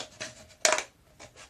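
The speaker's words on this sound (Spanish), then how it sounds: "introducimos las tijeras" Scissors cutting into the bottom of an aluminium soda can for a homemade TV antenna: a few short metallic snips, with one louder, sharper crunch near the middle, close up and without speech.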